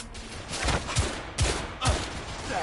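Video game gunfire from The Order: 1886, a PS4 action-horror shooter: several heavy shots in a short uneven volley, each with a booming low thump and reverberant tail, loud and close.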